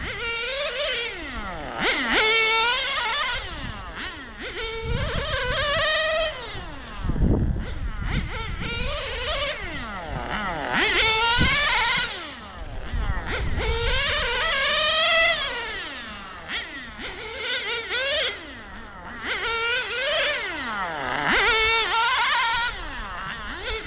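Radio-controlled car with a Sirio S12 Evo3 nitro engine being run in on a club track, its high whining engine rising and falling in repeated revving sweeps as it laps, loud and continuous throughout.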